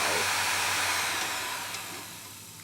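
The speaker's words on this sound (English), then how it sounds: "we give that a bit of voltage, we should be able to get that motor to spin. And there we go, spinning like crazy" A bare vacuum cleaner motor driven from a bench power supply spins up with a steady, loud whirring hiss that slowly fades as it runs on, with no talk over it.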